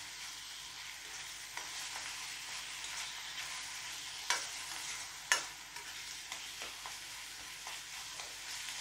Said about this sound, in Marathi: तीसुद्धा आपल्याला थोडीशी या कांद्याबरोबर परतून घ्यायची आहे।